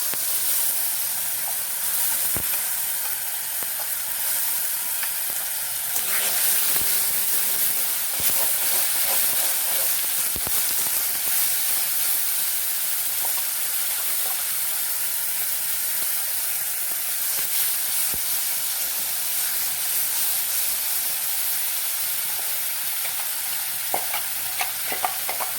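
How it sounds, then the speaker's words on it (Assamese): A paste of tomato, ginger, garlic and onion fries in a pan, hissing and sputtering steadily and close while occasional spatula scrapes and clicks sound through it, with no voices. "এইবাৰ এইখিনি পেষ্টখিনি ভাজিম"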